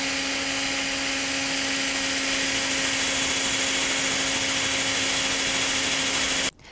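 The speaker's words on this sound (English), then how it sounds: "And now drill the 25 millimeter hole in the front edge of the door." A power drill boring a 25 millimeter hole into the front edge of a wooden door for a doorknob latch, a steady continuous whir with a constant motor tone that runs alone for several seconds, then stops abruptly.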